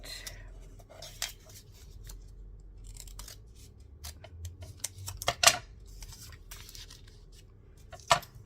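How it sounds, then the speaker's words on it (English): Scissors snip through a paper craft ticket in a quiet room: a few scattered snips and rustles, with sharper cuts near the middle and the end, close by and fairly soft, with no talk. "We could just cut that ticket in half, couldn't we?"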